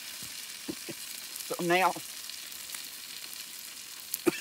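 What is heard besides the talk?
potatoes and onions frying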